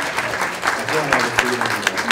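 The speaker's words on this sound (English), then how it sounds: "Please give a round of applause for Dr. Christine Su." Audience applause at a community kick-off event, a spread of clapping hands with a voice talking faintly underneath.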